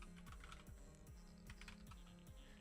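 Rapid keystrokes on a computer keyboard during a live coding session, a close string of crisp clicks in an irregular rhythm.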